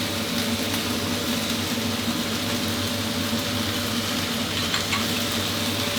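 Pickled bamboo shoots stir-fried with minced pork, holy basil and kaffir lime leaves in a hot pan give a steady, close sizzle that carries evenly throughout, with no voices.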